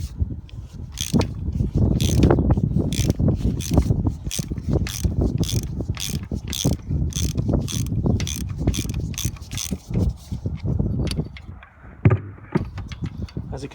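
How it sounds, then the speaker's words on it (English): Ratchet with a deep socket cranking loose the coolant temperature sensor on a 2011 Jeep Grand Cherokee 5.7L HEMI, rapid repeated pawl clicks in bursts, close and fairly loud, with mechanical clatter and no talk. "you want to use a deep socket on this so you don't strip this coolant sensor, and then just crack away"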